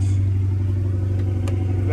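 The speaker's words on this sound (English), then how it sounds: "let's go ahead and do a cold start real quick" A Dodge Charger Scat Pack engine in a cold start gives a loud, steady low rumble that holds at an even level for the whole two seconds.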